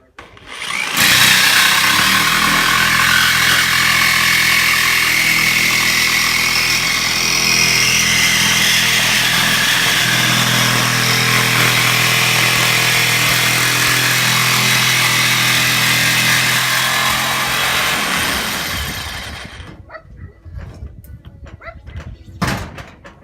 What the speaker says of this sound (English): I'm about to use the scroll saw and just follow the lines.